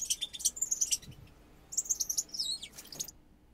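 A dog bark sample pitched up almost three octaves and sped up, turning into thin, high chirping bursts that sound like a small bird tweeting, in quick clusters with short gaps.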